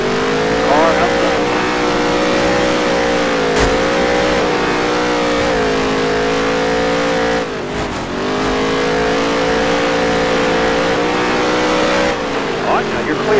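Race car engines from the NASCAR Heat 3 video game, dirt tour, drone loudly and steadily with rising and falling pitch as cars run close together, while a voice talks over the roar.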